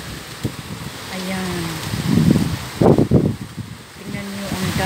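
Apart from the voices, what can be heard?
strong wind by the sea in Dubai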